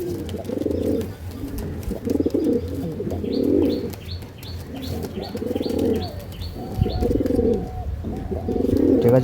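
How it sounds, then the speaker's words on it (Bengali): Several pigeons kept for sale in Hooghly coo in repeated low rolling phrases, close and fairly loud, with a few thin chirps overhead. "আমাদের বাম্পার কোয়ালিটি পায়রা আছে বন্ধুরা"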